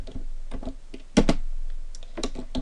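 Keystrokes on a computer keyboard while entering HTML form code, a quick irregular series of nearby clicks with a louder burst of keys midway and another cluster near the end, no talking.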